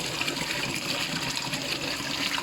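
Water pours steadily into an Evolution Aqua Eazypod pond filter through its 4-inch inlet after the waste valve is shut, a continuous close rushing and churning of filling water with no voices.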